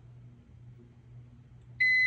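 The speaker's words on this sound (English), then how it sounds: "You hear that beep?" A Vevor thermal printer loading a sheet of paper gives a single sharp electronic beep near the end, loud and close, after a stretch of low mechanical hum.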